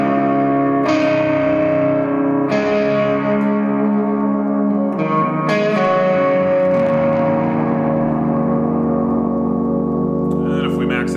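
Electric guitar played through an Orange Rockerverb 50 MK1 amp with reverb set around seven, several strummed chords ringing out with lush trailing reverb, loud and alone.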